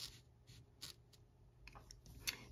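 An equation being written out by hand for a geometry lesson on circle equations: faint, close pen or marker strokes in short scratchy bursts against a quiet room, with no speech.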